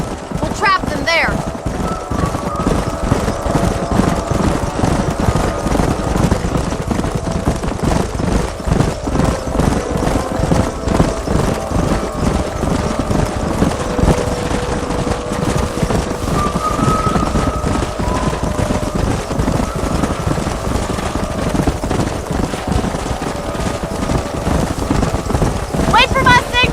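Wild horses gallop through a canyon in Red Dead Redemption as riders drive the herd, a steady rumble of hoofbeats running nonstop under voices and game ambience.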